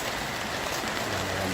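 Heavy rain pours steadily during a flood in the town of Lahat, a dense, continuous close-up wash of falling water with no voices.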